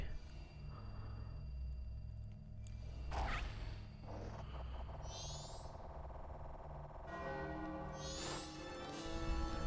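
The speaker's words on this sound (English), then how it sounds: "That ominous bell tower is very annoying." Ominous bell tower tolling in the Zelda game Majora's Mask, slow resonant strikes ringing over a steady low drone of game music and ambience, with no voices.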